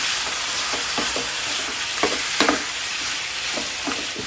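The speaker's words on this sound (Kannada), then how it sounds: "ಇದನ್ನೀಗ ಸ್ವಲ್ಪ ಎಣ್ಣೆಯಲ್ಲಿ ಸ್ವಲ್ಪ ಹೊತ್ತಿಗೆ ಫ್ರೈ ಮಾಡಬೇಕು." Chicken pieces for Mangalore-style chicken sukka fry in oil, a constant loud sizzle with irregular stirring scrapes of a ladle in the pan, no voices.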